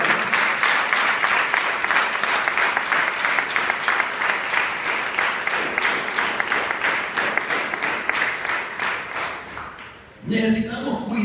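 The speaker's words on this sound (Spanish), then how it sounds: "Denle un aplauso fuerte" A church congregation breaks into loud, sustained applause that keeps going at an even level for about ten seconds, then fades, and a voice speaks briefly near the end.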